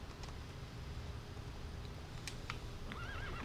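A horse whinnies in The Witcher 3: Wild Hunt video game with a shaky, wavering call near the end, over a dense noisy background with faint hoof clip-clops.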